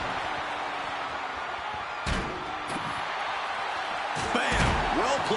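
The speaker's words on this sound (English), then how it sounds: "You heard the thud on the steps." A kick thuds against steel steps during a wrestling match in WWE 2K26, with a couple of dull, fairly quiet impacts over faint arena crowd ambience.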